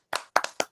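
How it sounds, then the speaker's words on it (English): Four quick, close hand claps ring out in an uneven rhythm, sharp and clear with nothing else around them. "Clap it up for RJ real quick, chat."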